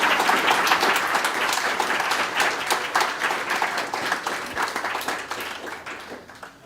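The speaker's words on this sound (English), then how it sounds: "please give a big round of applause" Sustained audience applause, a dense wash of many hands clapping that stays strong throughout and tapers slightly toward the end.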